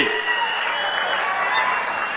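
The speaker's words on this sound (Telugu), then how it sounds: "గట్టిగా చప్పట్లు కొట్టి మీరందరూ కూడా అభినందించాల్సిన అవసరం ఉంది" An audience at a public speech applauds together, a steady wash of clapping held at even loudness for a couple of seconds with no voices breaking through.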